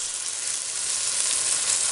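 Tomatoes frying in a pot, a steady close sizzle with bright hissing that stays even throughout, no voices.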